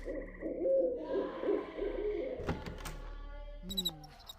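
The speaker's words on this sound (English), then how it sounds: "It's more loud birds." Loud hooting birds in The Dark Mod stealth video game, repeated hoots through the first half, followed by thumps and a door-like knock near the end.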